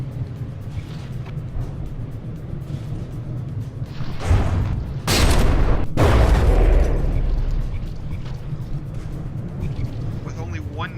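Naval gunfire from a frigate in a From The Depths tournament battle: a loud burst of heavy booming shots rising to a sharp crack and a roar that fades back into a low rumble, with a voice talking over the battle.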